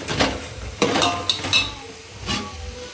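Ginger garlic paste cooks in hot oil in a pan for chicken dum biryani, with a soft sizzle broken by several sharp clinks and scrapes of a spoon stirring against the metal vessel, close and loud.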